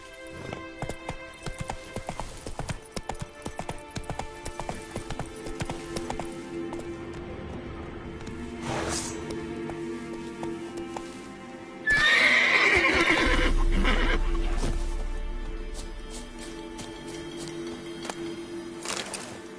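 Roach, a horse in The Witcher 3 video game, gallops with steady clip-clop hoofbeats and lets out loud neighs and whinnies, with a louder burst of galloping and snorting in the middle and game music beneath.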